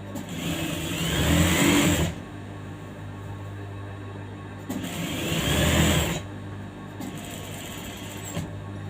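A sewing machine stitching and finishing the top sleeves of a churidar runs in two loud, close bursts of rapid needle clatter, with a quieter steady motor hum in between.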